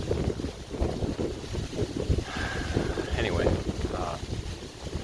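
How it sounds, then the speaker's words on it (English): Breezy October wind buffets a microphone outdoors during a deer hunt, making a continuous low rumbling rush, with someone briefly speaking under it. "it's kind of breezy"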